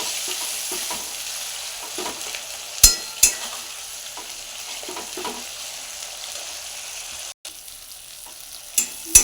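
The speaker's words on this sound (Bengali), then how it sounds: "হলুদ দিয়ে দিয়েছি, মশলাটা কষানোর পর্ব চলছে।" Meat with ginger, garlic and green chili paste, poppy seed and cashew paste and turmeric being sautéed in a pan, giving a steady close sizzle with occasional stirring scrapes and clinks.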